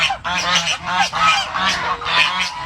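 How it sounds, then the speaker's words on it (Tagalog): Several geese on a farm resort honk loudly in a quick series of harsh, nasal calls, close by and overlapping, with brief gaps between bursts. "Mga gansa ko. Mga gansa."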